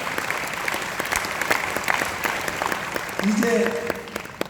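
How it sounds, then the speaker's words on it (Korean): Audience applause at a presentation, a dense patter of clapping running throughout under a speaker's brief talk, with a short tonal sound near the end. "큰 박수를 좀 보내주시기 바랍니다."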